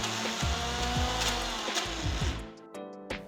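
A kitchen blender whirs steadily through garlic butter with fresh coriander, a dense motor drone with a few pulsing changes in pitch, close and loud, before cutting off near the end.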